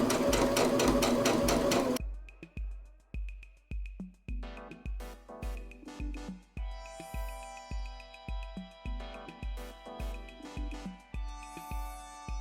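A sewing machine stitches a Halloween tote bag with a steady, even thumping rhythm and short pauses, close and fairly quiet. A brief burst of loud noise comes first and soft background music plays under the stitching.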